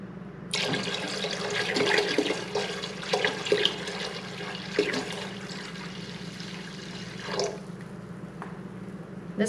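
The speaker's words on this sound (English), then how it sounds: "to that, we're gonna add 2 quarts of white vinegar" White vinegar poured from a gallon jug into a pot of water makes a steady liquid splashing and gurgling stream for several seconds, nearby, with a few louder sloshes and no voices.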